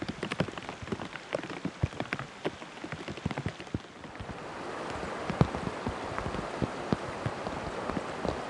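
Steady rain in Wrangell, Alaska, pattering on surfaces with scattered close drips and drops, growing into a denser, even wash partway through, with no voices.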